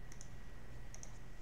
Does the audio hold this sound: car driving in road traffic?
no